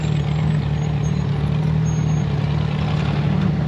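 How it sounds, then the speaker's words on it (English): Off-road race trucks at King of the Hammers driving in desert terrain, a loud steady engine drone with constant low rumble and no break, heard alone. "you'll see some of the trucks that are coming down right now that are competing"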